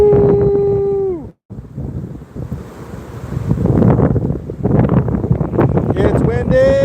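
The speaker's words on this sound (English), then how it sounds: "It's windy!" Strong wind roars and buffets the microphone aboard a fishing boat, with the rush of water and waves beneath and a brief falling whistle at the start; voices sound faintly through the gusts.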